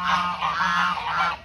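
Several geese honk loudly and continuously in a close, overlapping chorus, squabbling as they fight over alfalfa on a farm.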